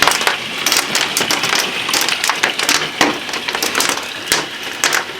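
Penny-sized hail pelts a house in Sheridan, Wyoming, a loud, dense, continuous clatter of sharp impacts with no pause.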